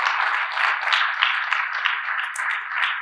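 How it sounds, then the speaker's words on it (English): A church congregation applauds to welcome newcomers, a sustained roomy wash of many hands clapping at an even level with no talk on top. "let's give them a round of applause"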